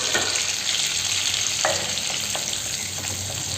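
Whole spices, cinnamon, cloves, cardamom, star anise and fennel, fry in cooking oil for an egg gravy, giving a dense, steady close sizzle with a brief stirring scrape midway and no voices.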